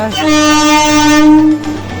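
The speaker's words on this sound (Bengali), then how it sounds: "আমাদের ট্রেন গাড়ি চলে এসছে" A loud, sustained train horn blares close by for over a second as a train arrives at a station, over a low rumble of rail traffic.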